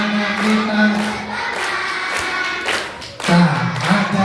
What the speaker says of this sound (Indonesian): Tepuk tangan sambil nyanyi.